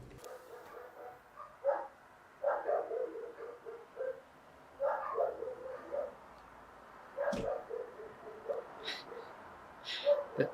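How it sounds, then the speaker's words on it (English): Several neighborhood dogs bark in scattered bursts from a distance, with yips and overlapping calls breaking out every couple of seconds against a quiet background. "all of my neighbors' dogs lose their minds. So much barking."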